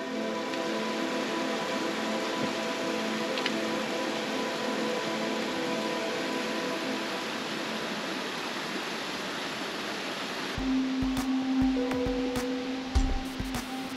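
A mountain waterfall in Rocky Mountain National Park roars as a steady broadband rush, then nearer clattering footsteps and movement break in over the water noise toward the end.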